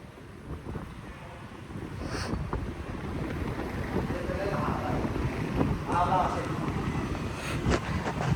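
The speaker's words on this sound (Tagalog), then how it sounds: "Napakahangin ng kitchen sa 5th floor." Steady wind rushes and buffets against the microphone throughout in a fifth-floor kitchen by the sea, a continuous blustery roar with faint distant sounds beneath.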